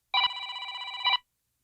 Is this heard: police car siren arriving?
no